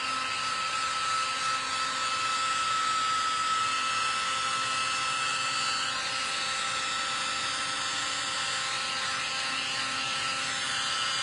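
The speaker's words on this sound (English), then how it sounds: "I'm going to get my heat gun because it dries faster than my other little tool." A heat gun blows continuously while drying a silkscreened tea towel, a steady, fairly loud airy whine holding unchanged throughout with no talking.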